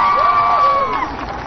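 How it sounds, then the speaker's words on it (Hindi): A crowd at a public event in Chhattisgarh cheers and applauds, a brief burst of whoops and shouting mixed with clapping, with some voices and a tonal sound carrying over the noise. "एक बार होकर भी जोरदार ताली के साथ सम्मान करो"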